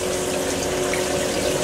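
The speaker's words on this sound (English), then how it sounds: "the drain is open, so water's running in and out at the same time" Water rushes steadily into and drains out of a 1961 Electrolux Dishmaid dishwasher at the same time, a continuous loud hiss and churn with no pauses and no voices.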